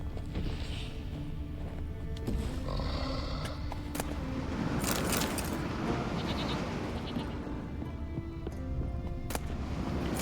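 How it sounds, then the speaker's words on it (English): A goat bleats in The Witcher video game, set against dense, loud ambient game sound, with no talk over it. "That's a goat."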